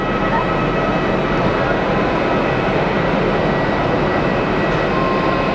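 Lufthansa Regional aircraft at Geneva Airport, a loud, steady jet engine roar with a broad rumbling noise that holds evenly throughout, no clear talking.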